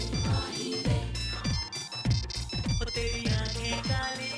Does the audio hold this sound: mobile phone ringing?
yes